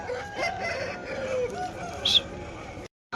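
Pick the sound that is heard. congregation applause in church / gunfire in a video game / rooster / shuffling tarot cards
rooster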